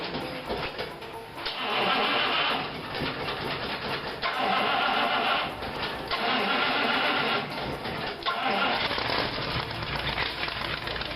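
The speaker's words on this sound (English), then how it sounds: "And fire it up. I believe she'll crank." A 1953 Cadillac engine cranking and catching, with repeated loud bursts of starter grinding and engine roar that come in surges, heard close with no talking.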